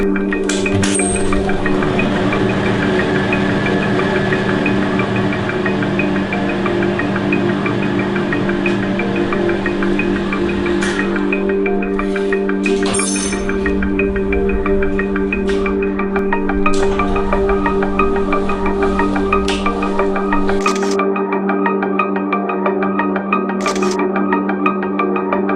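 Old duplex elevators running in a hotel, a steady mechanical hum and drone with scattered clinks and clicks over about half a minute, close and continuous with no voices.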